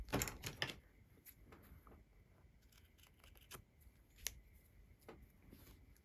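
Scissors trimming bobbin lace threads while finishing a tassel: a few crisp, close snips and small clicks, loudest at the start, then softer scattered handling sounds.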